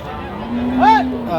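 A dairy cow with calves, one of several milk cows for sale at a farm in Sylhet, lets out a single mid-length moo with a rising and falling pitch over a steady low background hum.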